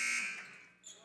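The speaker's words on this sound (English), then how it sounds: "And the buzzer sounds for whatever reason." An inadvertent buzzer at the scores table of a high school basketball game sounds in one loud, steady electronic blast that fades over about a second, with faint gym noise behind it.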